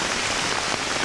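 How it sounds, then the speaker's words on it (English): Steady, dense rain patters across a surface, a continuous broadband hiss with no voices, close and fairly loud throughout. "It's bloody raining, man."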